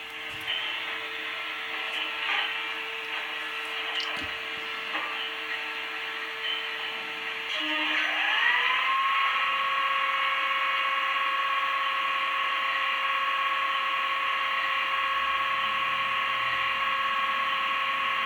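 A model locomotive's DCC sound decoder starting up, a steady electronic hum that shifts after several seconds into a louder, rising whine that settles into a constant tone, close and alone with no talking.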